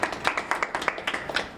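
Rhythmic clapping from a small group of Capital Prep school leaders at a meeting in Middletown, Connecticut, with steady, fairly close, moderately loud claps and no talk.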